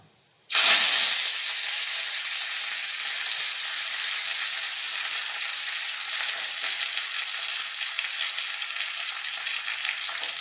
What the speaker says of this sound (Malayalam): എണ്ണ ചൂടായി വന്നിട്ടുണ്ട് അതിലേക്ക് കാൽ ടീസ്പൂൺ ഉലുവ ഇട്ട് കൊടുക്കുക